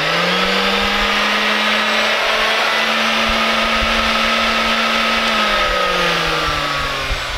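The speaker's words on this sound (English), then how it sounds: "We'll just test it with this orbital sander" An orbital sander runs off an inverter inside a small camping trailer, giving a steady, loud motor whine and buzz that holds for most of the stretch, then dips slightly in pitch near the end.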